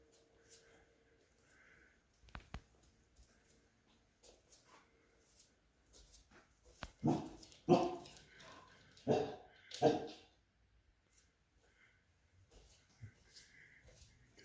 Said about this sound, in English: I just heard her bark.